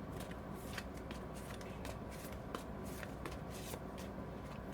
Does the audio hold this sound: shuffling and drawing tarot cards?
yes